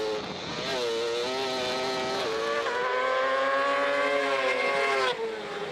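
Sidecar racing motorcycles scream past at Cadwell Park during a British Sidecar Championship race, their high-revving engines whining loudly and steadily with rising and shifting pitch.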